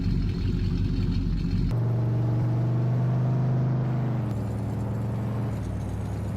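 Truck engine in Farming Simulator 22, a steady droning rumble that shifts pitch as gears change and settles into a constant, close-up hum while driving, with no voices.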